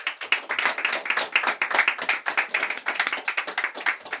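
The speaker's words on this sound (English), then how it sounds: "Can you give him a bigger hand clap?" Audience applause after a speech at an oratory competition, steady dense hand clapping that stays loud and even throughout, with no talking over it.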